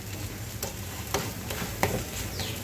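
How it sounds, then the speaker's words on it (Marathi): Cucumber thalipeeth flatbread roasts on a pan in a quiet, steady sizzle broken by a few soft ticks and taps, heard close with no talk. "मी छान भाजून घेते थालीपीठ"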